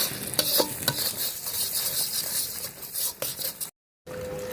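Cashew and melon seed paste is fried and stirred in a pan for doi katla, giving a bright continuous sizzle with repeated scraping strokes, close and fairly loud, then a brief drop to silence.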